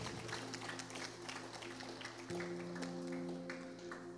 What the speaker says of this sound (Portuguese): Se levante aplaudindo ao Senhor